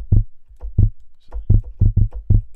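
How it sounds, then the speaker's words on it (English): Short percussive clicks built from a processed vocal sample in Ableton Live, struck roughly eight times in a loose rhythm, each a punchy low thump with a brief click on top, close and fairly loud. "a little bit of a click sound there"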